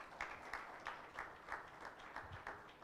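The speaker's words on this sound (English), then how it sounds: "So can we start our day with a huge round of applause?" Applause from an audience at a formal event opening, a steady wash of clapping with periodic louder swells, moderately distant and fairly quiet, with no voices over it.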